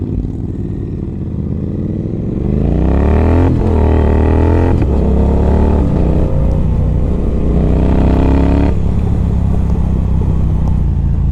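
A modded Triumph Thruxton R motorcycle is ridden hard, its engine roaring loudly and rising in pitch as it accelerates, with gear changes and a continuous close rumble and no voices.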